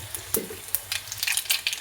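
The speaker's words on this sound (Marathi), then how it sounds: "तेल गरम झालेलं आहे, लसूण टाकला आणि थोडीशी मोहरी" Garlic and mustard seeds hitting hot oil for an okra stir-fry, a close crackling sizzle with a sharp pop at the start and quick spitting bursts that pick up toward the end.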